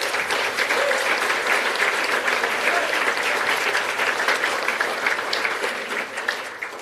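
An audience at the Guernsey Pride Awards claps in sustained, dense applause that fills the room evenly before tapering slightly toward the end, with no talking over it.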